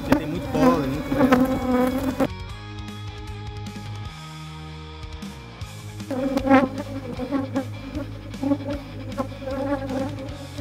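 Bees buzz at an apiary during a hive inspection, a continuous droning hum that swells louder and thicker at the start and end, with a lower mechanical drone in the middle.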